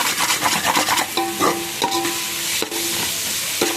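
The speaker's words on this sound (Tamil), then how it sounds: "இதை போட்டு நல்லா கலந்து விட்டு நல்லா வதக்குங்க." Mint leaves being sautéed in biryani masala in a pan for kalan dum biryani, with steady sizzling and frying under repeated scraping stirs of a spoon against the pan, close and continuous, no talking.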